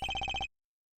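An electronic phone ring from the Ace Attorney Investigations game sounds as one short, loud, rapidly pulsing trill of about seven beats, then cuts to silence.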